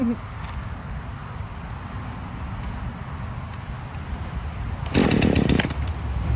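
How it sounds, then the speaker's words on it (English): A chainsaw drones steadily nearby on a farm for several seconds, then revs louder and harsher near the end. "He doesn't like chainsaws."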